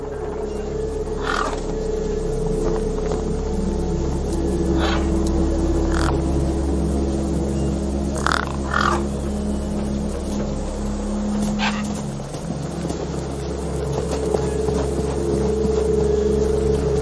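Gang-gang birds caw in the video game Beyond A Steel Sky, with short harsh calls scattered at intervals over a steady droning ambient background, moderately loud and without talk.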